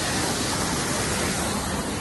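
A waterfall in Karura Forest fills the air with a constant, dense roar of rushing water, broadband and unbroken throughout.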